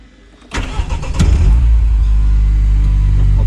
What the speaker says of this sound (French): le moteur est fort présent parce qu'il est juste derrière nous